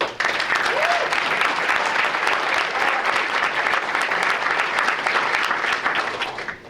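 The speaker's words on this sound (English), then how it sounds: "The nomination in and of itself deserves a round of applause." A dense, sustained round of applause from a sizable crowd at a school board meeting, loud and steady throughout before tapering off at the end.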